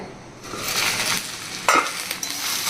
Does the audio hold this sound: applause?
no